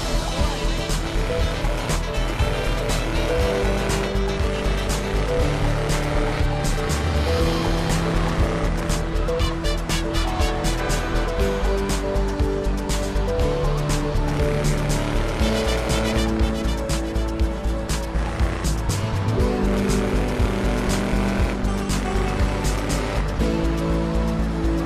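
Engine and tyre noise from a souped-up Hermes car driven in a Grand Theft Auto game, a continuous loud drone mixed with game music or ambience and no speech.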